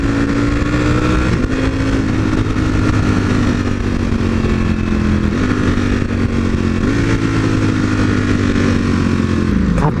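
Motorcycle under way with a quick shifter, engine droning steadily and loud, its pitch stepping down abruptly at each fast clutchless upshift before climbing again, with road and wind rush mixed in.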